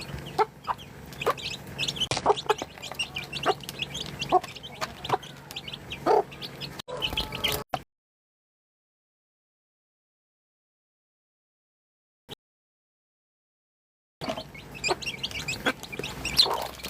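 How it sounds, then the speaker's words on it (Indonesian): Backyard-farm chickens cluck and cackle in a busy, irregular chorus, cut by a stretch of near silence broken by one faint tick, before the clucking picks up again. "Ini ya kelakuan ayam-ayam tuh."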